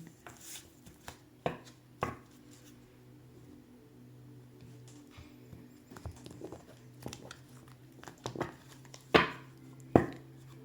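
Oracle cards being shuffled make scattered soft taps and papery riffles, with a few sharper slaps of cards hitting together, over a quiet low hum in a calm indoor room.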